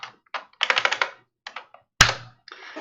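Bursts of computer keyboard typing while a DOS demo disk image name is entered: clusters of quick clicking keystrokes separated by short pauses, with one sharp louder key strike near the end, close and clear with no talking.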